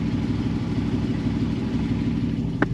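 A 2009 Jeep with a 6.4L 392 Hemi V8 idles steadily, a low, even rumble heard alone with a brief click near the end.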